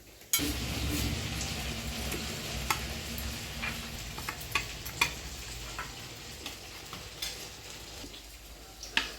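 Sabudana vada, crisp fried tapioca-pearl fritters, frying in hot oil with a steady close sizzle and occasional clinks of a utensil against the pan.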